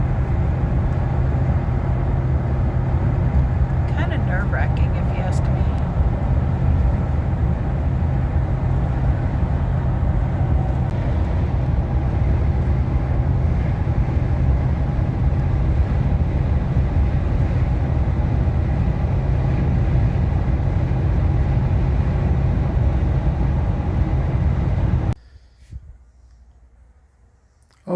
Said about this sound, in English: I guess you can hear that sound that tires are making.